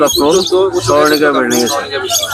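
Caged cockatiels and other pet birds chirp and tweet in a busy cluster close by at the Mirpur 13 bird market in Dhaka, overlapping someone talking.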